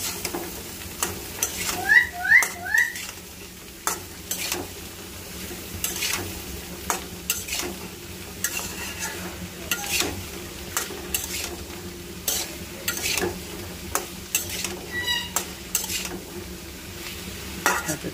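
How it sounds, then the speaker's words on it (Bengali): Sweet pumpkin stir-frying in a pan, soft sizzling beneath repeated clacks and scrapes of a utensil against the pan at an uneven rhythm, with a few brief chirpy squeaks. "দেখেন মিষ্টি কুমড়া ভাজি হয়ে গেছে।"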